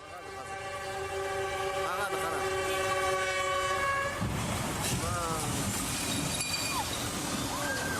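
A passenger train near Shamalgan in Almaty Region blares a long, loud sustained horn over steady rumbling, then the horn cuts off and the rolling rumble continues with scraping, screeching tones.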